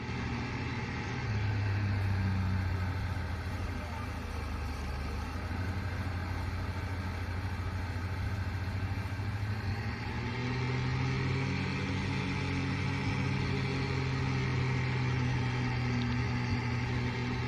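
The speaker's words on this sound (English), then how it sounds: "Oh, that tractor sounds rugged." A tractor engine in the Farming Simulator 19 video game, pulling a plow through a cornfield, drones steadily and loudly throughout with a deep rumble that shifts slightly in pitch, with no talking.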